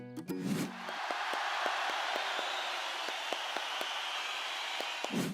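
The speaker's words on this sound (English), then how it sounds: "We could use our hands to clap for our friends." Children clap their hands for their friends at a preschool gathering, a steady run of quick, crisp claps that carries on for several seconds at moderate loudness over a soft wash of background noise.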